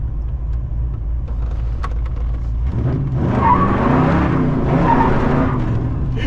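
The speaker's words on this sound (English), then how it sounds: "If you're going first, second, third, it just spins the tires way too damn fast" A 1979 Chevy El Camino spins its tires, a loud nearby screech and rising engine roar that starts midway through after a low idling rumble and holds for a few seconds.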